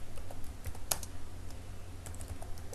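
Typing on a computer keyboard while writing HTML and JavaScript code, a quiet, irregular patter of close key clicks with a few sharper taps, heard alone without talk.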